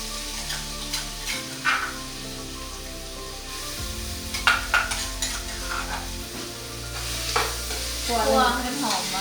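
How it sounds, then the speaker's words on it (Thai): Ingredients such as dried shallots are stir-roasted in a pan in Laos, with a steady dry sizzle and repeated scraping and clinking of a utensil against the pan throughout. "คั่วให้มันหอมวะ ให้มันหอมแล้วปิดนุ่ม"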